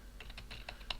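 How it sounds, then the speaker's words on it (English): Fingers typing a web address on a computer keyboard, a quick run of about ten light, close keystrokes in an irregular rhythm over faint background hiss. "this is the area where we can type in the URL of the website we want to go to"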